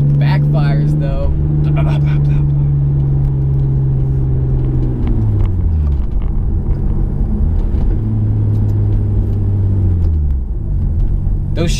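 A car engine rumbles and revs through rising and falling gear tones over several seconds, loud and close, with talking heard throughout; no distinct backfire pops stand out.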